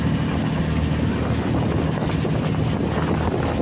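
Strong sea waves wash and churn around a boat off the coast at Real, Quezon, a steady broadband roar blended with heavy wind buffeting the microphone and no talking.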